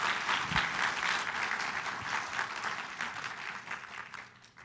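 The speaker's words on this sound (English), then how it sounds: "please join me in a round of applause" An audience at a health technology anniversary event applauds a guest speaker with dense, sustained clapping that slowly fades toward the end.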